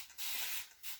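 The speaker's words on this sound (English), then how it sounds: "And let's spray it." Liquid sprayed onto painted furniture with a hand spray bottle, two or three broad hissing bursts close by, the middle one longest, with short gaps between them.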